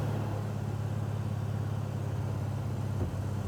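Steady, smooth low engine drone from inside a 1967 Camaro SS restomod cruising at about 50 mph, constant and even with no talk.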